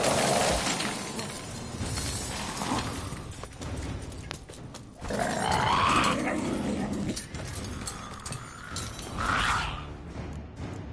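A dog growls and attacks in a role-playing video game set in the Blood and Wine world, snarling bursts rising over game clatter and crunching effects, loud and close, with no speech.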